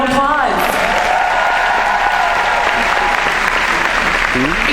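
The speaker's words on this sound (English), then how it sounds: "Let's give them a big round of applause." An audience at a seminar applauds loudly and continuously, a dense, close wash of clapping, with whoops and a few voices rising over it near the start and end.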